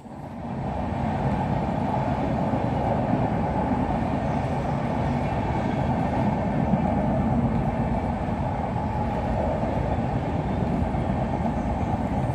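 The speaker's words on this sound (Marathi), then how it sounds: "तर आवाज तुमका आता इलो ट्रेनचं जाताना" A train runs along the railway track behind a house near Kankavli station in Konkan, a loud, steady rumble and rattle of wagons passing close by, no voices.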